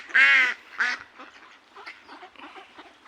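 Ducks quack close by, two loud nasal calls followed by softer, scattered quacks and chatter from the flock.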